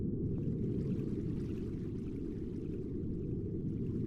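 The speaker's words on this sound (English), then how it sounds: "Why is there water?" Water flows in the Final Fantasy XI video game, a steady low rushing murmur like a constant stream, unchanging and alone.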